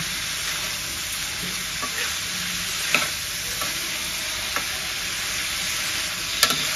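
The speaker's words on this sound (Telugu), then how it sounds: "చూడండి బోటి అయితే వేగుతుంది" Boiled mutton boti (tripe) frying in a pan with salt and turmeric, giving a steady broadband sizzle throughout with a few brief stirring clinks and scrapes, close and fairly loud, no talking.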